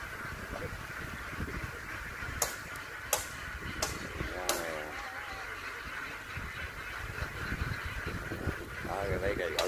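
Laying ducks quack and honk repeatedly at a moderate distance, mixed with sharp clattering knocks and a steady outdoor rumble, on a farm in Vietnam's Mekong Delta where the flock travels by boat.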